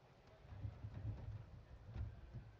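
Rain in the racing game F1 25 hisses softly and steadily with low rumbling gusts, faint and distant throughout the short stretch.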